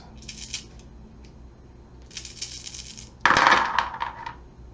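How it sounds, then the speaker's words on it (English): Eight dice rolled during a Rogue Trooper board game, a few light rattles followed by a louder clattering tumble onto the table, heard alone without talk. "He rolls 8 dice."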